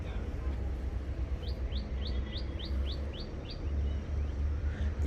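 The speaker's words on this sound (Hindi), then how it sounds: "इतनी छोटी सी रहती है ना चिड़िया, पर ऐसी आवाज़ निकालती है ना, चाँ चाँ चाँ चाँ।" A small bird in a guava orchard chirps a quick series of about eight high, sharp notes in a steady rhythm over a low background rumble.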